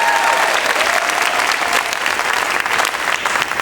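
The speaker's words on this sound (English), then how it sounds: "Can you give a big round of applause to Danny K." A large audience bursts into sustained, dense applause for Congressman Danny K. Davis at a congressional awards gala. The clapping is loud and continuous throughout, with faint crowd noise mixed in.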